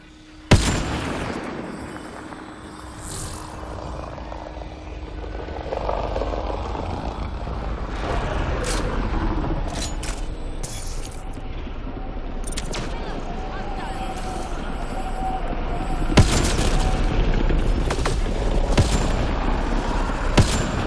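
Gunfire and explosions from the video game Mass Effect Andromeda crack in bursts over continuous game noise, with sharp shots clustered around the middle and end and a voice talking over them.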